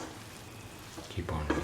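Eggplant fried rice being stirred in a pan over a low flame, a soft sizzle that turns into louder scraping stir strokes near the end, close and without speech.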